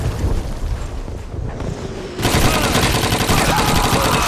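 Automatic rifle fire in Call of Duty 2, a quieter spell first, then a sudden loud, continuous rattle of rapid shots close by, with no speech.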